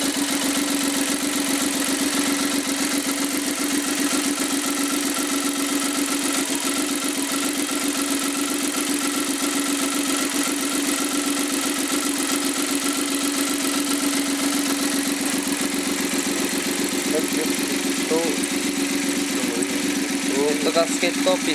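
A freshly rebuilt Suzuki K6A turbo engine from a Lapin Turbo, on a test run with new gaskets and piston rings, idles steadily and loudly with an even, continuous hum and faint knocking throughout.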